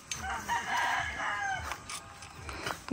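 A rooster and chickens on a farm field during peanut planting, with a loud crow ringing out over soft, scattered clucking and low background noise.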